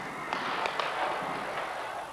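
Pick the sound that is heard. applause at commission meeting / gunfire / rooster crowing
gunfire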